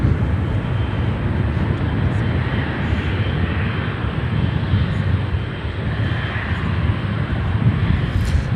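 A Turkish Airlines Boeing 777-300 jet, 13 years old, roars steadily and loudly at an airport, a continuous broadband engine rumble with no break.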